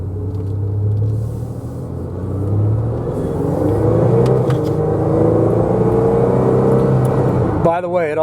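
A 1990s-era GMC Syclone pickup truck's engine rumbles and builds as it accelerates, a low steady drone rising in intensity, loud and close.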